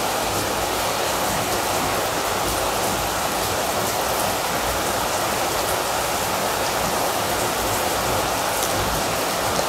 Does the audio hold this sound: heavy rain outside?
yes